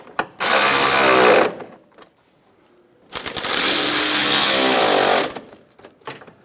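A power tool snugs down bolts on a 2014-2018 Chevrolet Silverado 1500 windshield washer reservoir in two loud, sustained whirring bursts of about a second and two seconds, each ending abruptly, with small clicks between them.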